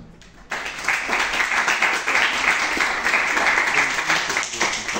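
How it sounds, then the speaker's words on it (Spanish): Applause at a book presentation breaks out suddenly after a brief pause and carries on as a steady, dense roar of many hands, fairly loud and sustained to the end. "a quien pedimos fuertes palmas"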